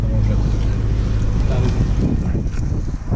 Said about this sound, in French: Il y a un peu de vent mais...